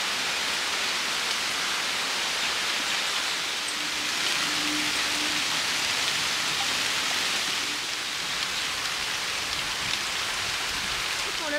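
Steady rain falls around a pond lined with trees, a continuous even hiss of drops on surfaces with no talk over it.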